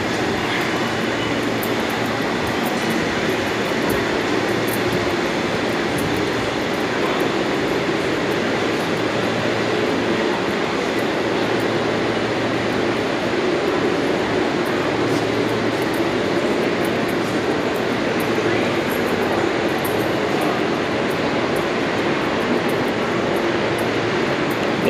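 A subway shuttle train rumbles steadily along the tracks at a station platform, with a constant low roar and faint rattling, continuous and loud throughout.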